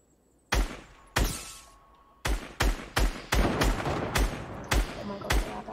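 Gunfire in Fortnite: about eight sharp, loud shots ring out, irregularly spaced at first and then in a quicker run, each followed by a short decaying tail.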